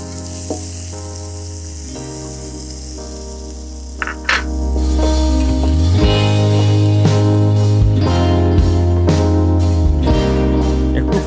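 About 150 grams of chopped onion sizzling in hot oil with tempered spices, a steady close frying hiss that grows louder after the onion goes in, with occasional stirring.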